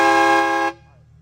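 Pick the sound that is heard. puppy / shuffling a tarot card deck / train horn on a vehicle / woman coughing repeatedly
train horn on a vehicle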